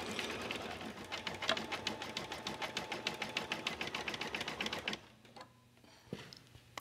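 An embroidery machine stitches a design on faux suede, its needle hammering in a fast, even, close rhythm for about five seconds before stopping, leaving a quiet low hum and a few small clicks.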